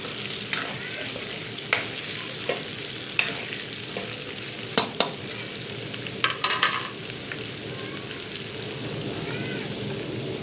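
Chopped green garlic sizzles in oil for chicken karahi as tomatoes are tipped in, a steady crackling fry with scattered sharper pops and clinks of a utensil, no talking.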